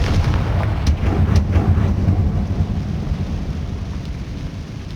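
A Confringo fire spell explodes in the Hogwarts Legacy video game, giving a loud, sustained rumbling blast with deep booming low end and a few sharper crackling bursts early on, slowly fading over several seconds.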